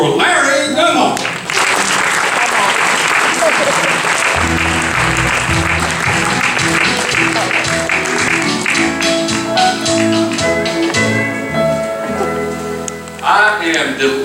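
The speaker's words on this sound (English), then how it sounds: "How about a big round of applause for Larry Dunlap?" An awards-show audience breaks into loud, sustained applause welcoming Larry Dunlap, dense clapping that builds and holds for several seconds and then tapers as music and a voice come in.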